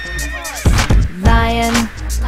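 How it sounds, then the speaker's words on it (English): A horse neighs loudly and close, a long whinny with a rising and falling cry, then a second drawn-out call, with no talking over it. "horse"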